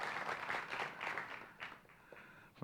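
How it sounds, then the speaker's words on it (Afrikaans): An audience applauds for Antoinette at a church gathering, a burst of many hands clapping that swells and then thins out over a couple of seconds. "Ek wonder of julle vir haar 'n klap sal gee."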